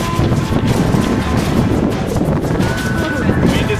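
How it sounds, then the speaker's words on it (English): Strong wind buffeting the microphone outdoors, a loud steady rushing roar with gusty low-end rumble and faint background speech underneath. "Wind is picking up."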